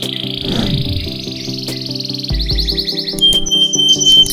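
A young crossbred canary sings a rapid, varied run of chirps, trills and whistled notes, close and loud, over a busy background of other bird calls and insect-like tones, with a low thump partway through.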